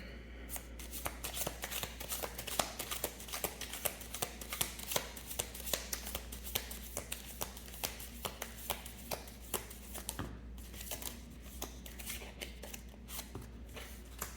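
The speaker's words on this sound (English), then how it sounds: "Let's shuffle again." Tarot cards are shuffled steadily and continuously, a dense riffling patter close up with a low background hum and almost no talking.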